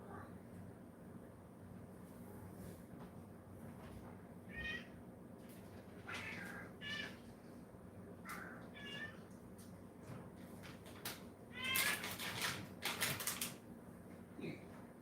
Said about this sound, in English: The cat is requesting treats